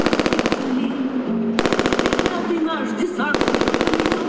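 Machine gun firing blanks during a paratrooper demonstration staged on a public square, in loud rapid bursts of evenly spaced shots separated by short pauses, with crowd noise in between.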